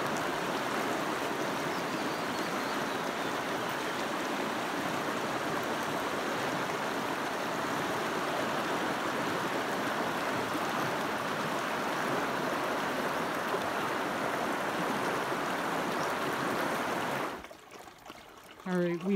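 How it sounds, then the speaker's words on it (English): The Rio Grande flows beside a hot spring, a steady, dense rush of moving water heard close up for most of the stretch. It cuts off near the end, leaving a brief quieter moment with a faint voice. "This is literally the Rio Grande right here, and it is flowing from up here"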